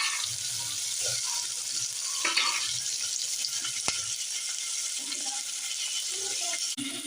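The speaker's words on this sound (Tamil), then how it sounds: "நல்லா சேர்த்து வதக்கிக்கலாம் பாருங்க வெங்காயம் தக்காளி வதங்குது" Onions and tomatoes sautéing in a pan after cinnamon and chilli were fried, for a potato sambar and plantain kootu, give a steady close sizzle with occasional stirring scrapes and light clinks throughout.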